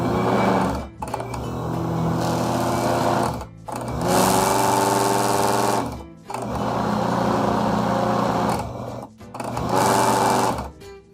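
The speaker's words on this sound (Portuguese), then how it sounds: "terminei de colocar a farinha no liquidificador" A blender whirs loud and close as it mixes cake batter with flour for a gourmet sliced cake, running in four bursts separated by brief pauses.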